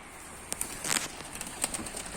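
Blue mirror-tail tumbler pigeon in flight at a Mardin pigeon show, giving faint, brief wing flaps and fluttering bursts against quiet open-air background, with no voices.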